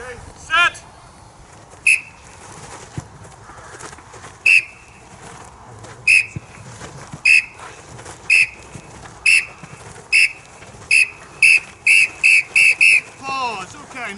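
A coach's whistle at a Gaelic games coaching session gives about a dozen sharp, loud blasts, widely spaced at first and then coming in quicker succession toward the end.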